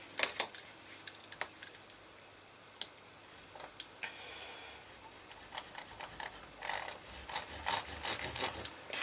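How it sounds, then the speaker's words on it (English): An overstitch wheel rolls along stitched leather to seat the stitches in the groove, faint dry rasping and fine ticking clicks in uneven bursts, close up with no talk. "is an overstitch wheel, for seating your stitches after nicely in the stitch groove"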